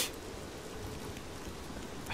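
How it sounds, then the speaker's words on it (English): Steady, dense rain pours down with a constant broadband hiss, uniform and unbroken throughout, with no voices. "cold, heavy rain"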